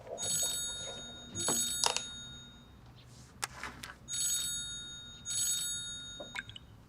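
Telephone ringing, an electronic bell-like ring that sounds in three or four repeated bursts with short gaps, clear and near, mixed with light clatter between rings.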